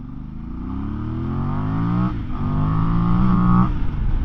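A Voge motorcycle in sport mode revs its engine high, with two rising climbs in pitch separated by a brief dip, loud and close throughout.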